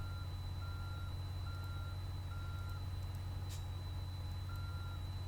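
A truck reversing in the American Truck Simulator video game gives off regularly spaced, moderately quiet backup beeps over a steady low engine drone, with no talking.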